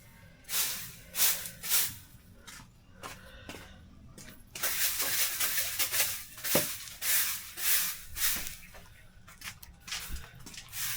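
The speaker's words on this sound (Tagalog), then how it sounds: "I-spray natin yung mga dumi." Hose spraying water to wash dog droppings and dirt off the ground near a fishpond, hissing bursts that come and go over about eleven seconds, with people speaking nearby.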